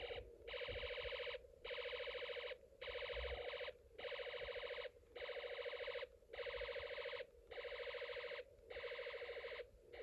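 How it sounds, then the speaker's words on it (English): An electronic alarm tone from a Snap Circuits alarm integrated circuit, rapid rattling pulses in bursts of about a second separated by short gaps, repeating evenly like machine-gun fire, faint and alone. "I changed the connections for the alarm integrated circuit again, so there will be yet another tone."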